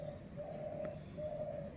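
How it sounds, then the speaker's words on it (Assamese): A small caught bird, held in the hand, gives soft repeated coos, faint and close in a quiet room with no talk. "দেখিছে চৰাইখিনি ধৰি ল'লোঁ মই"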